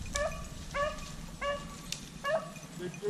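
A hunting dog gives a series of high yipping barks, about five spaced calls, out in a Louisiana swamp during a rabbit hunt, moderately close with faint outdoor background.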